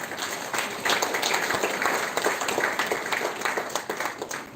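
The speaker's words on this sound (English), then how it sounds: "I request all the August gathering to give a big round of applause for" Round of applause from attendees at an international conference, a fairly quiet hall filling with steady clapping that swells after a moment and stays dense, with individual claps audible.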